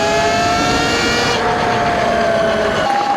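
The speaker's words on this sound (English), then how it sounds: "It makes some noises though. The suspension in the rear is not liking it too much" An E-Ride Pro SS 2.0 electric bike, a 12,000-watt machine, riding hard off-road with a loud, continuous high-pitched motor whine that shifts in pitch over rough ground, with no talk.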